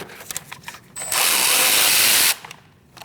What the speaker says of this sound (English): We're going to remove this bolt and also this one. I'm using a 13mm socket and an extension.